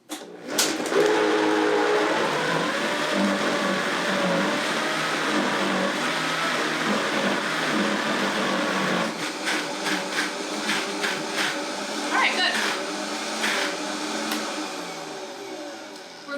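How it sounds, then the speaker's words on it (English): A blender blending frozen berries whirs steadily and loudly for most of the clip, with a few sharp clattering knocks and shifts near the end. "turn the blender on"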